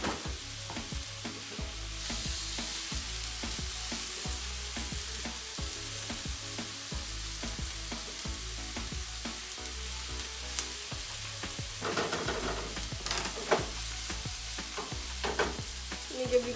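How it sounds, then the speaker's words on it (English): Onions, garlic and ginger fry in a pan with a steady close sizzle under repeated scraping stir strokes throughout, no talking. "When the onions begin to turn transparent, that's how you know it's okay to add in the saltfish."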